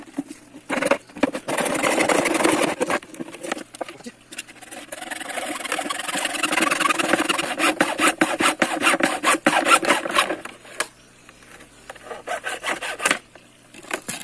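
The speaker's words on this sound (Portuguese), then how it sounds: "Vou cortar esse cano aqui." A hollow pipe is sawn by hand to form a spout for a sugarcane juice setup: rapid rasping back-and-forth strokes in bursts, loud and close, with pauses and some talk in between.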